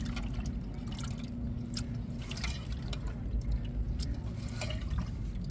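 Heavy village rain pours in a steady, dense hiss, with scattered close drips and splashes landing over it throughout.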